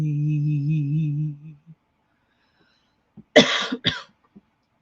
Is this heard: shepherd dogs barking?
no